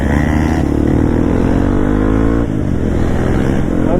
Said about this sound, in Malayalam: ഒരു ബഹളം തന്നെ കേട്ടോ. എക്സോസ്റ്റ് ഇല്ലാത്ത ഒറ്റ ബൈക്ക് പോലും ഇല്ല.